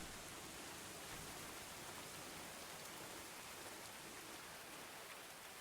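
Steady rain in the medieval colony-building video game Going Medieval, an even, dense hiss of falling drops that continues unbroken for several seconds with no voices.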